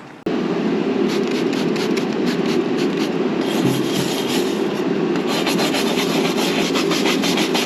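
Steady, vigorous scrubbing rasps against the glass door of a wood stove to lift stubborn residue with an ammonia-based cleaner, a continuous close-up rubbing with a brief pause near the middle.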